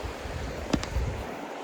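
Steady rushing of flowing river water, a continuous broadband wash close by, with a brief faint knock partway through.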